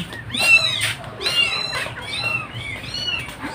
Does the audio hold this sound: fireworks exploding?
no